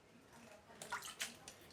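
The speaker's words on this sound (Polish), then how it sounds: "To znaczy się wkładamy do zimnej wody" Ham dropped into a pot of cold water for shock cooling makes soft splashes and sloshing bursts, fairly faint and close, with quiet moments before and after.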